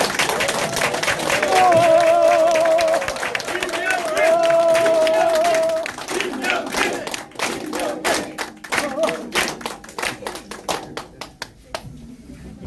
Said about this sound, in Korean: 박수 한 번만 부탁드릴게요.